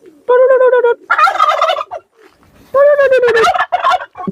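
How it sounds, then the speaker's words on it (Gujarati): A domestic turkey gobbles loudly and close by in two separate bursts of rapid warbling calls with a short pause between them. "તમારું ટર્કી બોલે છે જો"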